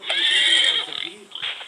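A horse whinnies in the video game Survivalcraft 2, a bright, shaky neigh lasting most of a second, followed by short snorting bursts and a fainter second call, close and clear.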